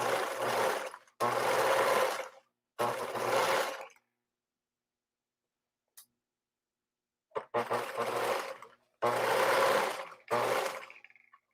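Sewing machine stitching fabric while upcycling men's shirts, several bursts of rapid mechanical whirring separated by silent pauses, close and clear with no one talking.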